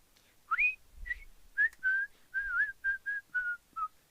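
A recorded man's whistled melody, a singer fooling around at a song's fade, about eight clear sustained whistled phrases in steady rhythm, close and alone over a faint low background.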